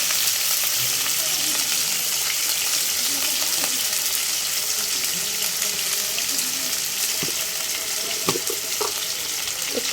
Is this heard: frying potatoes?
yes